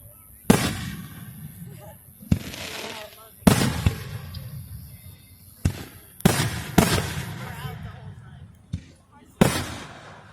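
Fireworks burst in a series of loud, sharp booms spaced a second or two apart, each with a crackling tail, while people chat between the blasts.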